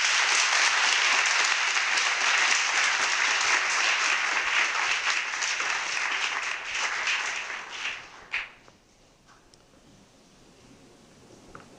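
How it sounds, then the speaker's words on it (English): Audience applause for exhibitors at a kite maker's retrospective exhibit, a dense roomful of clapping that holds steady, then thins out and dies away with a few last scattered claps near the end. "recognize their contribution with a hearty applause"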